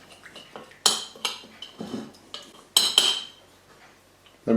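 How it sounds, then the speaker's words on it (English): A spoon clinks and scrapes against a bowl while chili garlic sauce and dark soy sauce are stirred together, a series of sharp close metallic taps separated by brief pauses. "place the chili and garlic sauce and the dark soy sauce together. And just mix that in."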